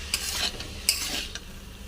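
Cauliflower fried rice, sweetened and flavored with kewra water, stirred in a sizzling pan, with a few clinking spatula scrapes against the metal over a steady low hiss, close and with no talking.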